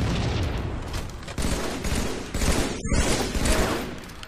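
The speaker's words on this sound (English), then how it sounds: "Grenade!" Grenade blasts and rapid gunfire from an online match of the Halo 3 video game: a continuous, loud barrage of booming hits and crackling shots with a few sharp breaks.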